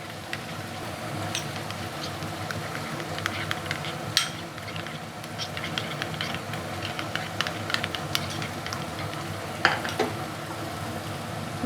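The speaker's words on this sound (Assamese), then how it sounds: "বাকি মিক্সি বাউলত লাগি থকা মছলাখিনি মই তেলত দি দিছো" Ground masala spices sizzle in hot oil for a mutton dish, giving a steady frying hiss scattered with small crackles and pops, close and moderately loud, with no talking.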